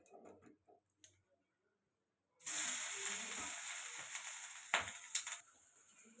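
Food dropped into hot oil, a sudden loud sizzle that starts after a few faint clicks and continues steadily with crackling pops before fading.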